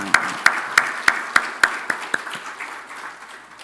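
A church congregation claps to welcome a newborn during a Sunday service, in roughly eight evenly spaced, near-unison claps that gradually soften and fade into quieter scattered clapping.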